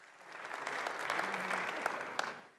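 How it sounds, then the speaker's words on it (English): A room full of people at the 2026 NATO Summit in Ankara claps steadily, swelling and then tapering off over a couple of seconds, heard from a moderate distance. "Another round of applause."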